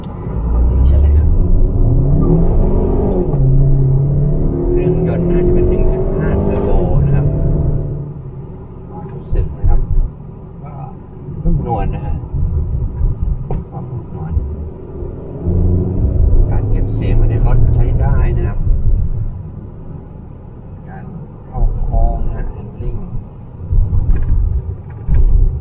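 MG HS SUV accelerating hard in sport mode on a test track, engine rumble rising and falling in pitch through several surges, with someone talking over it.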